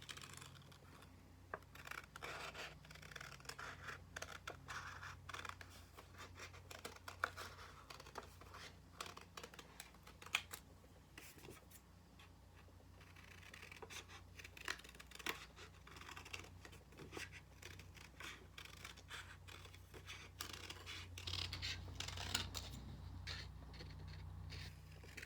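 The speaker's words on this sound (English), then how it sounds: "I will take my scissors and I'm going to cut out the half circles" Scissors snip through paper to cut out half circles for a Girl Scout Daisy craft, producing a steady run of quiet, close crisp cuts and paper rustles that continue without talk.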